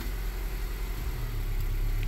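A 2015 Honda CR-V AWD idling with the brake held while the transmission is shifted through its gears, a steady close engine hum with no talk.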